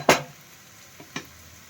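Spices being mixed in a cooking pot over heat, one sharp scraping clatter of a spoon followed by two softer strokes against a quiet sizzle.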